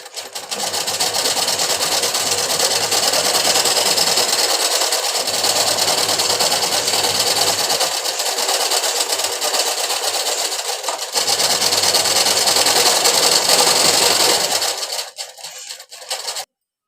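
An electric sewing machine stitches a dhoti salwar in a long, steady, close whirring run that pauses and dips briefly a few times, then stops abruptly at the end.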